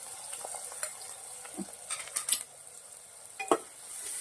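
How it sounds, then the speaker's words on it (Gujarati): Garlic, chillies and onion frying in oil in a pan, a faint steady sizzle broken by a few scraping stirs and clinks of a utensil against the pan. "મરચાં નાખ્યા પછી તરત આપણે ડુંગળી નાખી દેવાની છે."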